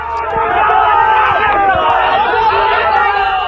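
Angry crowd surrounding a BJP legislator's car in Jalore, Rajasthan, after a bus accident, shouting slogans: dense, continuous chatter and raised voices close by, with scattered shouts over steady crowd noise.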